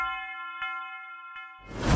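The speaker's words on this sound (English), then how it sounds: "I like adding like tubular bells to my samples." A tubular bell sample in an FL Studio beat rings with a sustained bright tone, repeating faintly through delay and reverb before a noisy swell cuts in at the end.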